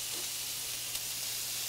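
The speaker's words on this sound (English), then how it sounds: "It's now ready for the same skillet to which we can add the shrimp and a little garlic and some red pepper." Shrimp sizzle in a hot skillet with garlic and red pepper, a steady soft hiss and crackle of frying that holds evenly throughout.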